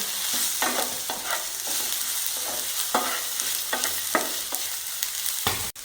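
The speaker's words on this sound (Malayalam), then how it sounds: "പിന്നെ ഒരു അല്പം മഞ്ഞൾപ്പൊടിയും കൂടെ ചേർത്തിട്ടുണ്ട് നമുക്ക് നന്നായിട്ടൊന്ന് ഇളക്കി യോജിപ്പിക്കാം" Onions with turmeric powder are stirred in a pan for fish mappas, giving a continuous sizzle with regular scraping strokes of the spoon, close and fairly loud, with no talk.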